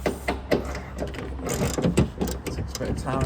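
Close metallic ratcheting and clicking from a hand tool unscrewing bolts on a Vauxhall Astra H boot, irregular bursts of grinding clicks repeating over a few seconds.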